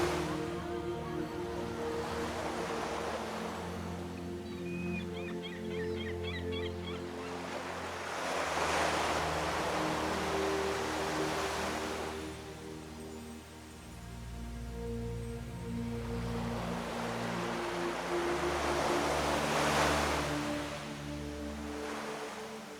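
Ocean waves roll onto the beach at Fitzroy Island in slow, swelling surges every several seconds, loud and close, over a constant low background rumble.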